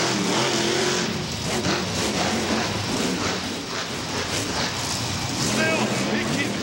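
Maximum Destruction monster truck at a Monster Jam World Finals freestyle run, its engine roaring and revving in loud surges across the arena while an announcer talks excitedly over it.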